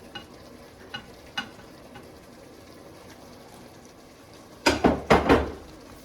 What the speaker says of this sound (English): Mix it together, and then we're just gonna have that boil for a bit.